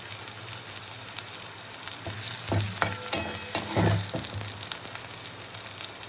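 Onions sizzle and spit in hot hilsa fish frying oil, a steady crackle rising into louder bursts as they are stirred around the pan, heard close up with no voices.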